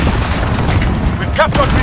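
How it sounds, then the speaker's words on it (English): A grenade detonates in Call of Duty: Modern Warfare multiplayer, a heavy, continuous low boom and rumble lasting the whole moment, with a voice briefly calling out over the din. "Grenade out!"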